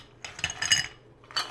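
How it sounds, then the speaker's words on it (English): Ice cubes drop into a cocktail mixing glass for a stirred Sazerac, making a quick cluster of close glassy clinks and rattles, then a pause and one more brief clink. "I'm just going to drop a little bit of ice in the mixing glass"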